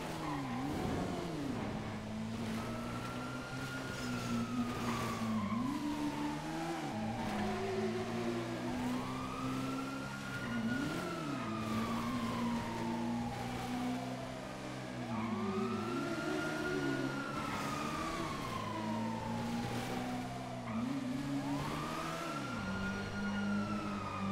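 Wailing police car siren in GTA 5, rising and falling in repeated sweeping cycles over a droning car engine, loud and close, with no talk.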